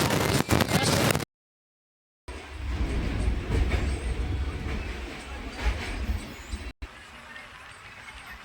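The Vivek Express, heard from on board, rumbles and clatters steadily while crossing a bridge over a dry sandy riverbed near Bhubaneswar, a loud continuous rolling noise with a short dropout and a voice speaking.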